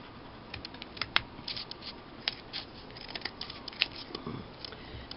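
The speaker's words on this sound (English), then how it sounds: "I think I need to trim some down here, that side, and this side." Scissors trimming the edges of a fabric postcard with stitchery, giving soft, irregular snipping and rustling strokes, fairly quiet and close, with no talking.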